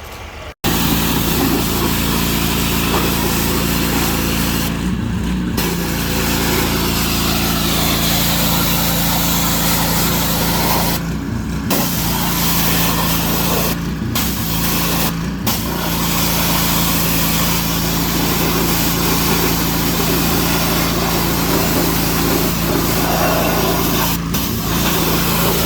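A John Deere 3046R compact tractor runs steadily on a homestead, its engine droning loud and close at constant revs for the whole stretch, with a few brief dips and no talking.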